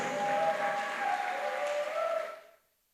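A church congregation claps for Jesus in a dense, sustained burst of applause that holds steady for over two seconds, then quickly fades to silence.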